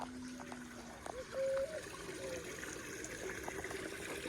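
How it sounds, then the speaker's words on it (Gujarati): Rainwater trickles steadily into an old borewell on a farm, a soft continuous running-water sound with a few faint tonal chirps over it, moderately close and without talk. "વરસાદનું પાણી બધું જૂના બોરમાં જવા દીધું છે"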